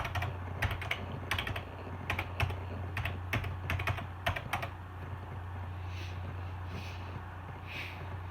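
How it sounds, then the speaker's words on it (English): Rapid clacking of keys on a mechanical computer keyboard, a burst of close, crisp strikes in uneven rhythm over a steady low electrical hum, then the typing stops and only faint background noise remains. "I don't know what kind of mechanical keyboard I have"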